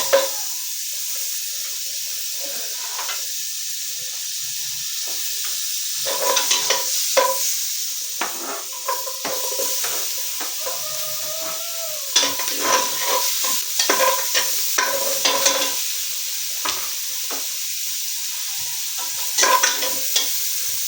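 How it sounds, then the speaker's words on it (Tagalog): Food sautés in a frying pan with a steady, close sizzle, broken by intermittent scraping and clinking as a utensil stirs the pan, with no talking. "Nagigisa na po tayo"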